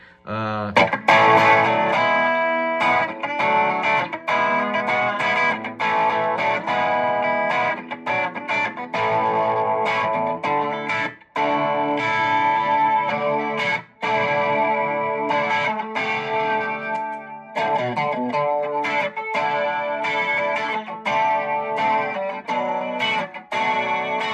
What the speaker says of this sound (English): 10 is supposed to be a direct rock sound, DI tone with some processing, voiced for quick plug-in and play rock tones